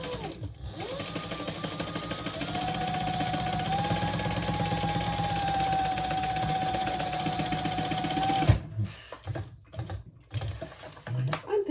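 Sewing machine top stitching a side piece of a purple lightweight waterproof canvas crossbody bag, a steady close whirring run for about eight seconds, then stopping, followed by handling noises.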